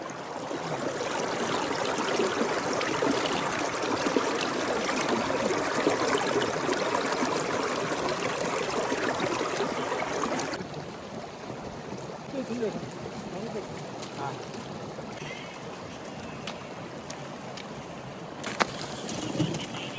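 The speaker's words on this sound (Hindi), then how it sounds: "देखो बर्फ़ जैसे जैसे मेल्ट होती है ना, तो इसके नीचे से निकलता है पानी।" A meltwater stream flowing out from under snow in Sissu Valley near Manali, a steady rushing gurgle that eases after the midpoint, with faint bird calls and occasional soft talk.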